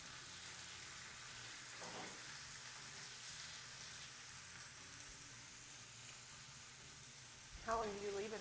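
A whole steak searing in a hot pan gives a steady, close, hissing sizzle that runs unbroken, with a couple of brief scraping or stirring noises and a short voice near the end.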